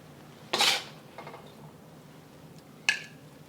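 Black pepper beef with green onions and garlic chips slid and scraped onto a serving plate, a loud utensil-on-dish clatter followed by a softer clink, close with no talk.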